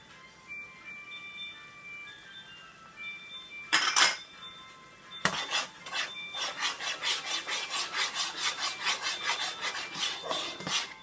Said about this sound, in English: I'm going to add the zest of 1 lime into this pot